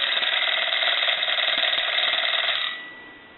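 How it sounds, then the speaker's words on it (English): Northern Galion rotary desk telephone fitted with a converted bell, ringing in one continuous loud metallic burst close by that stops abruptly and leaves a fading ring. "And so we'll go ahead and ring the telephone."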